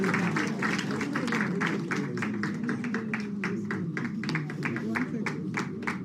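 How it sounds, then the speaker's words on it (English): Applause for a woman at a national farmers' engagement event with the President, a steady crowd of clapping with sharp hand claps standing out over a murmur of voices and a low hum for the whole stretch. "una more clap for her"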